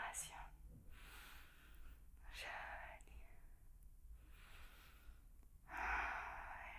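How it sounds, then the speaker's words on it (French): Slow, deep breaths drawn in and out through the nose during a power yoga session, soft and close, with airy inhales and exhales alternating over several cycles. "Encore 2 bonnes respirations."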